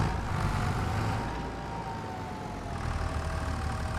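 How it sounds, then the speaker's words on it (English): A tractor engine idles in the Farming Simulator video game, giving a steady, fairly quiet low drone that holds an even level throughout with no voices. "Right, so we've got ourselves a tractor."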